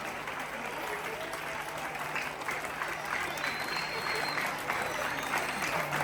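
An audience at a school prefect ceremony claps continuously for the newly elected prefects, a broad, even wash of applause that holds steady from start to finish.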